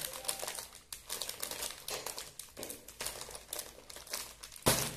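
A Chiki Piatos potato snack bag being torn open and handled: continuous crinkly plastic rustling with short crackling bursts, close and fairly quiet, ending in a sharp rip, with no talking.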